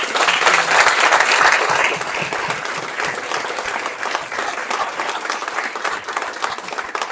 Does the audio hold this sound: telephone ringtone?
no